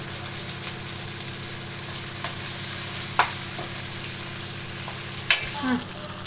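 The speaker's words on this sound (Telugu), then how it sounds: "ఇప్పుడు పుదీనా వేస్తా ఉన్నాను" Mint leaves frying in a pan for eggplant masala, a steady soft sizzle with a few faint stirring clinks and one sharper scrape near the end.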